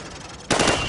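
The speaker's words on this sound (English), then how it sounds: "Now shoot at the targets while firing from the hip." Rifle shots fired from the hip in Call of Duty 4: Modern Warfare on a training range, a sudden loud rapid burst of automatic fire starting halfway through and continuing to the end.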